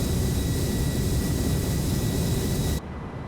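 Airbus A318-100 cabin engine sound in Microsoft Flight Simulator, a loud, steady broadband jet roar with a faint high whine that cuts off abruptly near the end, leaving a much quieter hum.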